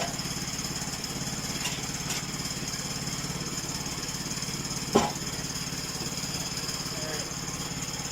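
A newly installed homestead sawmill cuts through timber, its engine droning steadily and loudly throughout, with one sharp knock partway through.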